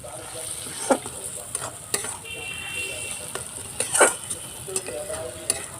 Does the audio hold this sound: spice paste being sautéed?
yes